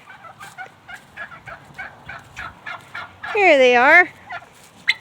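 Turkeys on a homestead let out a loud, warbling gobble close by, cutting through a scattered series of soft clucks and bird calls, while a person speaks briefly.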